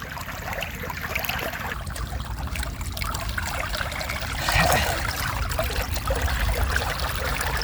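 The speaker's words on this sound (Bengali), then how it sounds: "খুব অ্যাস্থেটিক একটা প্লেসে আমরা গোসল করতেছি দেখি একটা ডুব দেওয়া যায় নাকি এখানে" Water splashing and trickling as people bathe outdoors in a village near rice fields, a steady close wash of sound with a brief louder splash midway.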